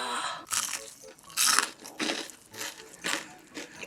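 Crispy pork tonkatsu, loin and sweet potato, is bitten and chewed by hand up close, producing a series of crunchy bites and chews in an uneven rhythm.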